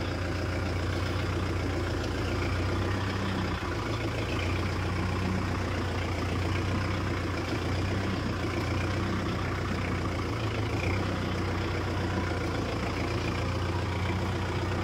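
Tractor diesel engine idling and running steadily in first gear, a continuous low rumbling drone close by with no pauses or speech over it.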